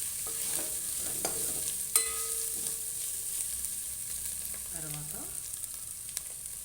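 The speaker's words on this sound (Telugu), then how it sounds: "ఇదంతా కూడా మొత్తం ఫ్రై అయ్యేటట్టు చేసుకోవాలి" Taro root pieces fry in a hot pan as a spoon stirs them, a steady sizzle with scattered scraping clinks and a few knocks against the pan, continuous and close with no talking.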